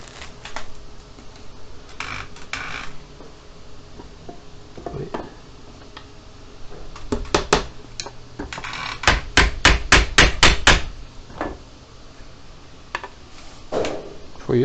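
A hammer driving a nail into wood, starting with a few scattered knocks, then a fast, fairly close run of sharp, evenly spaced blows, with quiet talk in between.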